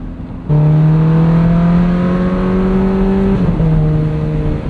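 A 2008 Ferrari F430 Spider's V8 revs hard and steadily, a loud close engine scream holding high pitch with a brief dip near the end, alone without voices.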